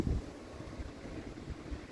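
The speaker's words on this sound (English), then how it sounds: "it is super duper windy out here." Strong gusty wind buffeting an outdoor microphone in the evening, a steady low rumble with heavier bursts, loudest at the start and then holding near.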